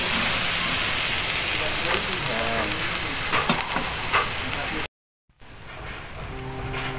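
Marinated chicken liver sizzles and crackles steadily in hot oil for adobong atay, a loud continuous frying hiss with faint stirring clinks, broken by a brief gap before the sizzle resumes.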